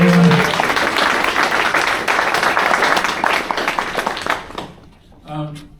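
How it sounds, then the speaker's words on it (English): Crowd applause at a public talk on hate and peace advocacy, a loud, dense burst of clapping that fades out toward the end before a speaker resumes. "Clap for Catherine Greenberg,"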